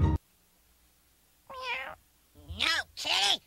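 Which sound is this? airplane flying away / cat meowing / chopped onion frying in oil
cat meowing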